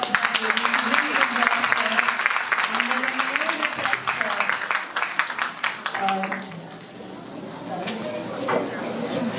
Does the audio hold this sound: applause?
yes